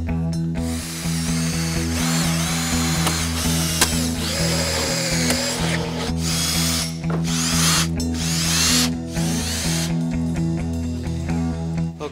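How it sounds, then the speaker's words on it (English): A drill fitted with a rotor broach cuts holes in aluminum panels, a steady loud mechanical whir with a low motor hum beneath. It surges into repeated bursts of harsher cutting noise separated by brief lulls, and nobody speaks. "So we'll go ahead and drill it out with this"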